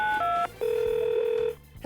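Telephone dialing tones play as a short run of loud, clean keypad beeps, a brief tone, then a longer sustained tone, with no voices.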